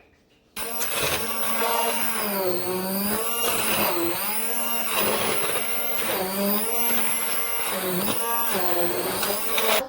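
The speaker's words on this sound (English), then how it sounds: "Now we are going to blend it" Kitchen blender whirring through biscotti ingredients, starting abruptly and running loud and continuous for several seconds, its motor pitch rising and dipping in repeated waves.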